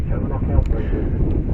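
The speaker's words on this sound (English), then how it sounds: "It's extremely windy out here. That's why I am... you can hear all the wind blowing" Strong wind buffets a microphone outdoors at a rocket launch viewing site, producing a loud, low rumbling roar under a voice talking.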